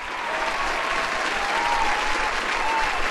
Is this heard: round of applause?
yes